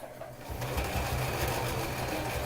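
A sewing machine stitching right along the edge of a fabric piece, a steady close whirring hum that runs continuously.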